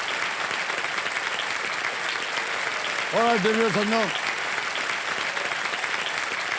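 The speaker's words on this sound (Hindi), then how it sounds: "तालियां बज जाए जोरों से नमिश के लिए" A TV quiz-show studio audience applauds a contestant with steady, dense clapping throughout, while a host speaks over it and a brief musical tone sounds midway.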